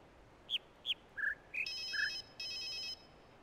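A telephone rings inside the puzzle video game The Witness, starting with a few short electronic chirps that swell into two sustained warbling ring bursts, clean and moderately loud with no talk over it.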